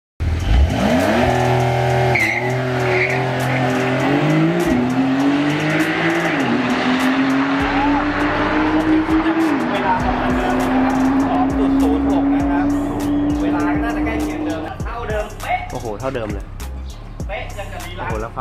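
Supercars, Lamborghinis among them, race hard on a track. Engines roar loudly and continuously, rising in pitch as they go through the gears, with tire squeal and skidding heard close. Engine noise dominates throughout.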